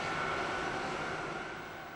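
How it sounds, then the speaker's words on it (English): Concorde supersonic passenger jet roaring steadily as a broad, loud engine rush with a faint tonal whine, slowly easing off toward the end, with no voices. "Concorde is the fastest passenger jet flying."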